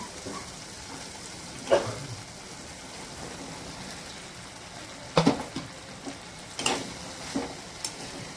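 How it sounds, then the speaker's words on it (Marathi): Ridge gourd pieces are dropped into hot oil in a pan, and a soft steady sizzle follows with several sharp clatters and stirring knocks of a spoon against the pan. There is no talking. "हे बघा किती मस्त तेल सुटलेलं आहे आपण आता यामध्ये दोडकी टाकून घेऊया"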